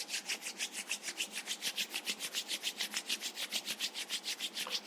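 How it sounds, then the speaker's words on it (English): Palms rubbed briskly against each other during a yoga session, a close, steady run of about twenty rhythmic swishing strokes with no voices. "you can start rubbing your palms against each other"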